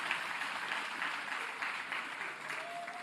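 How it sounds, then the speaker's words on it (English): Crowd applause at a South African ANC political gathering, steady dense clapping from many hands throughout, fairly loud and continuous without talk. "let's give South African Police Service a big round of applause"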